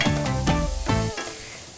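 Shallots and garlic sweat in a pan with salt, giving a steady soft sizzle with a few stirring scrapes over about two seconds, close and moderately loud, with no talking.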